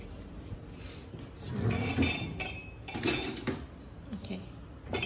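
At a home Hari Raya lunch, a spoon clinks and scrapes against dishes as rendang and serunding are served, with light scattered clatter close by and people talking over it.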